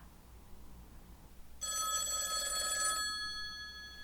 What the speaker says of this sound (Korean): 꿈결인 듯 전화벨이 울렸다.